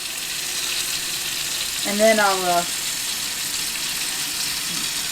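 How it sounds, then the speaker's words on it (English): A tap runs to fill a tank, giving a constant hissing rush of water, with someone speaking briefly over it partway through. "So I'm just gonna fill the water up a little bit,"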